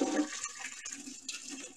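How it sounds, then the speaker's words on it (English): Water drains out of a kitchen sink, a soft steady gurgling rush that carries on close by at low volume with no voices over it. "we're gonna pour this right down into the drain and leave it in there."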